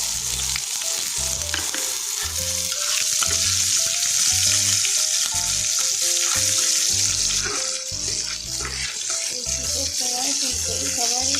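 Onions frying in a pan with a dried chilli for a cauliflower and pea curry, a loud continuous sizzle with light stirring, while faint background music plays.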